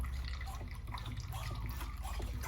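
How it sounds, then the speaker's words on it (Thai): Water is pumped out of a Staresso SP300 portable espresso maker after brewing, giving a close, steady trickling flow over a low rumbling background. "เมื่อเราชงเสร็จ ก็ให้มาปั๊มน้ำออกนะครับ"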